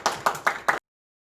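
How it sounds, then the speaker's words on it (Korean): A few quick bursts of clapping at a church youth worship service, four short claps or bursts spaced evenly over under a second, then silence. "영광의 박수 올려드립니다."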